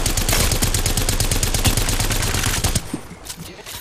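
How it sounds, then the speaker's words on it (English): Rapid automatic gunfire from the Apex Legends battle royale shooter, a dense sustained burst of shots at close range that cuts off and fades near the end. "Oh god, I'm getting shot."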